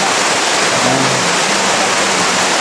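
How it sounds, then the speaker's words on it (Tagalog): Heavy rain pouring down outdoors under a large tree, a loud, dense, continuous hiss with no breaks. "Malakas yung ulan natin."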